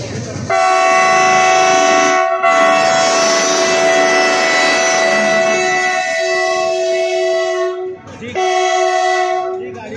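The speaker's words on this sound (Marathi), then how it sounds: "डिझेल इंजन लावून या गाडी 4 तासानंतर प्रथमच भोजवळ रेल्वे स्टेशनवर सोडण्यात येत आहे" A passenger train hauled by a diesel locomotive pulls out of a station after an accident delay, sounding a long, loud, sustained horn twice with a brief break, over the rumble of the moving train.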